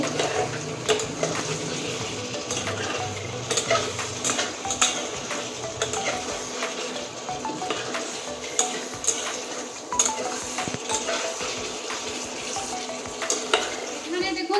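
Chicken masala frying in a pan, Bengali style, with a spoon stirring and scraping the pan bottom in irregular clinks over a constant soft sizzle, close and moderately quiet, no talking.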